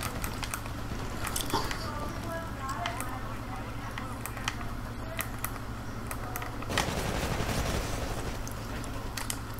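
Rapid automatic gunfire and weapon bursts from the Titanfall video game, dense and continuous over a steady electronic hum, with a louder surge of fire near the end; a voice speaks over the action.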